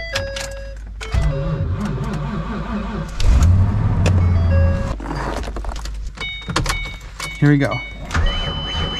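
A Ford F-250 pickup truck engine cranks and fires up at about three seconds, settling into a steady idle, with a person speaking briefly nearby and small clicks and key-like rattles around it.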